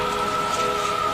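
Rain in a horror story, a dense, even hiss of steady rainfall on surfaces, loud and continuous with no talk.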